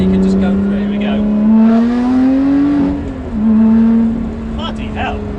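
A Lotus Exige 430 Cup accelerating hard on an open road, loud engine climbing in pitch, briefly dropping at a gear change, then climbing again, with people talking over it inside the car.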